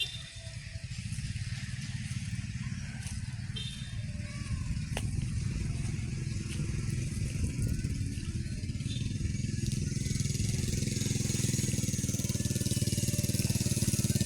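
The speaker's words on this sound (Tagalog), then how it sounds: "may dumaan pa nga motor" A motorcycle engine drones nearby, growing gradually louder as it approaches, with a faint clatter and outdoor background noise.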